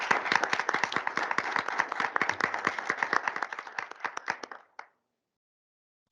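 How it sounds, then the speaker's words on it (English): A small audience at an architecture and disability talk claps for several seconds, a dense patter of hands that thins out and stops, followed by silence. "give a great round of applause for our speakers today."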